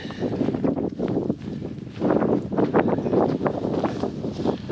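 Strong, steady wind buffeting the microphone on the trek to Everest Base Camp, with loud gusty rumbling that swells and surges throughout.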